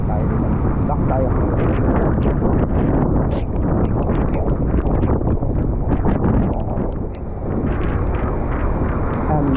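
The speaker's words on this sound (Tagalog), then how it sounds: "Ibang-iba na sa lakas kanina malakas, ngayon mas malakas po yung hangin." Strong typhoon wind during a storm, loud roaring buffeting noise battering the microphone in a continuous rumbling gusty wash with brief dips, heavy and close throughout.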